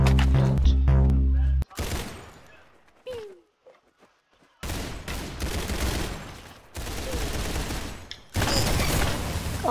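Video game gunfire: a dense burst of rapid shots up front, then sporadic reports and stretches of rattling fire between near-silent gaps, mixed with a player's voice.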